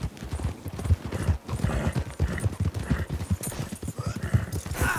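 Hooves clip-clop in a quick, steady gallop of a horse in Red Dead Redemption 2, continuous and close for several seconds, with no talking over it.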